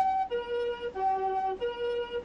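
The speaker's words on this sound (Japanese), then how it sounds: "この音こそが依頼のあった新たなサイレン音。 コンフォートサイレンなのだ。" A new, lower-pitched comfort ambulance siren in Sapporo, sounding close and loud as a smooth two-tone wail that alternates between a higher and a lower pitch in a steady cycle, with no speech.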